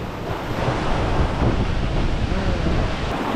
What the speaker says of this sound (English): there's not much water when it goes out, but that surge is pretty gnarly